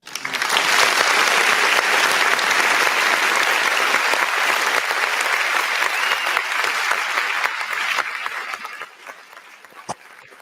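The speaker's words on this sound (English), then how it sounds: "give Danger and Minister Tony a round of applause, ladies and gentlemen" An audience gives a round of applause at a Black History Month celebration, dense sustained clapping that holds steady and then thins out toward the end, followed by a single sharp knock.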